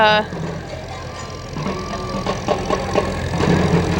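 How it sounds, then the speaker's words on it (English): An Allis-Chalmers tractor engine idles with a low, steady rumble and light knocking at a parade; a voice speaks briefly at the start. "Allis-Chalmers tractor."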